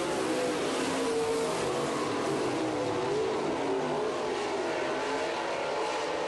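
Dirt track race cars roar around LA Raceway in Lamont, Missouri during a heat race, a dense continuous engine drone filling the clip with steady loud revving and no pauses.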